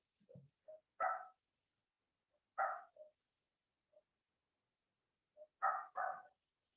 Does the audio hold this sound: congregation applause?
no